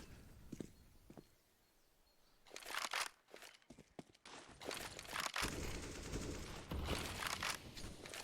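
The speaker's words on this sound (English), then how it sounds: "AUG spray in on Sviat, does a little bit of damage." AUG rifle gunfire from a Counter-Strike match on the Inferno map, heard as a faint opening followed by bursts of rapid automatic fire mixed with footsteps and game clatter, fairly quiet throughout with no voices.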